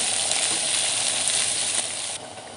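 Potatoes hit a hot pan and sizzle loudly and steadily while being stirred and mixed, the hiss dropping slightly near the end as the frying settles.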